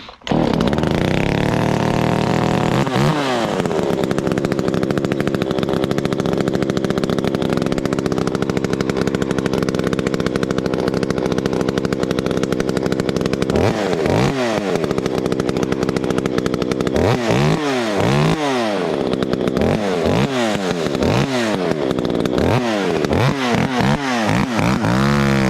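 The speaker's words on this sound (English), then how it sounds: "So yeah, I got a different exhaust on here. Tamed it down since we're out in the forest, so it's not so loud, but we'll see if she runs." Husqvarna 372XP big bore chainsaw with a tamed aftermarket exhaust, run in a forest for bucking firewood; loud steady engine drone, with several sharp rev-ups and drops in pitch near the start and repeatedly toward the end.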